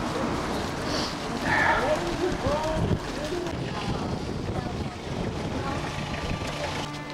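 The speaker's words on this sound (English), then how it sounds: "The wind is blowing about 20 miles an hour" Steady wind of about 20 miles an hour rushes past the microphone in Segovia, Spain, a constant blustery roar that continues throughout.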